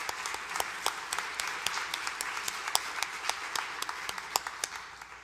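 Audience applause fills a Kentucky National Board Certified Teacher recognition ceremony: a steady, dense round of clapping with sharp individual claps popping out, sustained at even loudness throughout with no talk over it.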